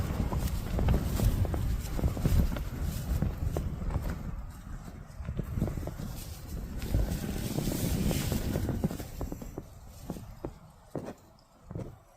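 Steady gusty wind noise buffets the microphone throughout, with scattered knocks and clatter underneath, fairly loud and continuous.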